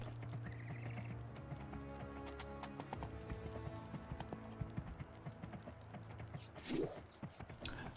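Horse hooves clip-clop steadily in the video game Two Worlds as a mount is ridden across terrain, with a brief whinny near the end over a quiet game music bed.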